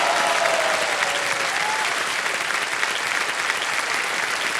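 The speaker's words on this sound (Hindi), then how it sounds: "ताली बजती रहे इनके लिए," Studio audience on a Hindi television quiz show breaks into loud, sustained applause, a dense wash of clapping that carries evenly from start to finish.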